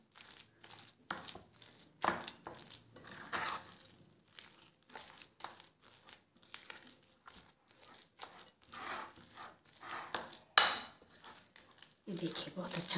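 Besan naan dough being mixed by hand with egg and dried fenugreek, giving soft irregular sticky squelches and scrapes in a bowl, with a few sharper clacks of bowl or utensil, fairly quiet and with no talk.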